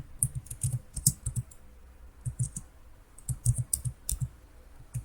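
A computer mouse is clicked during work in Power BI, giving sharp, close clicks in small clusters, some single and some in quick doubles and triples, separated by brief quiet gaps.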